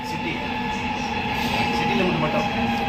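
A metro train runs through Switzerland with a steady, close rolling rumble and faint hum, while people talk over it.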